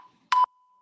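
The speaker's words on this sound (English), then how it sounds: "You'll hear the beep." A single short electronic beep from a workout interval timer, clean and mid-pitched, sounding once briefly over near silence.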